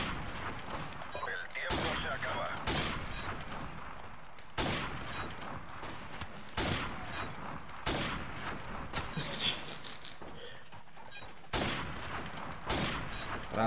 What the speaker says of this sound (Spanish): Ahora es cuando tienes que meter los tiros, Fran.